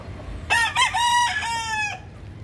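A Rhode Island Red rooster gives a single full crow, a clear multi-part call lasting about a second and a half over quiet background, fairly near and moderately loud.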